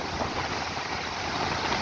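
Rushing floodwater of the river at Hyderabad Jamshoro, a steady loud roar of churning water mixed with wind buffeting the microphone, continuous and unbroken with no voices.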